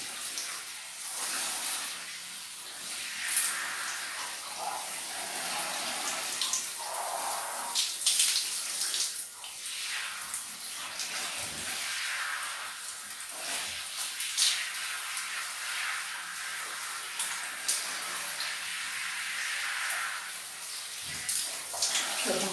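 Water runs steadily and splashes during a bath, with a continuous gush and shifting splatter throughout, and occasional talking in the background.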